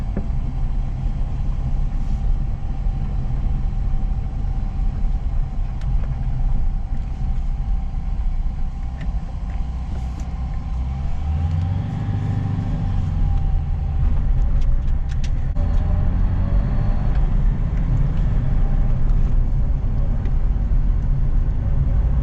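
An old vehicle left sitting in a paddock for 20 years drives along with a steady, loud engine rumble and road noise, the pitch shifting as it changes up through the gears.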